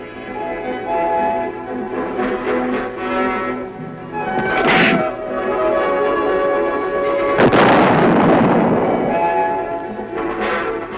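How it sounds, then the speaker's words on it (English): A tank gun fires a shell at Aberdeen Proving Grounds: one loud, sharp blast with a rolling tail past the midpoint, preceded by a smaller thump, over a steady droning tonal background. "the hydraulic loading system rams a shell into the breech. A charge is added and the weapon is ready to fire"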